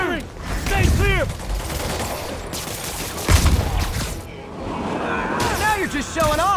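Gunfire in Marvel's Spider-Man Remastered, with bursts of rapid shots and impacts mixed among whooshes and a chirpy warbling effect, under shouted character dialogue.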